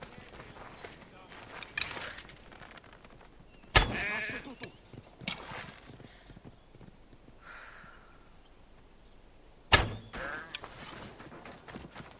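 Goats bleating in Assassin's Creed Odyssey, a few scattered bleats among game sounds with two sharp loud impacts, while a player talks over the action.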